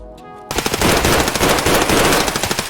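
Suppressed MP5 SD submachine gun fired full-auto in the video game Escape from Tarkov, a dense rapid burst of muffled shots that starts abruptly and continues loud and steady after a short quiet intro.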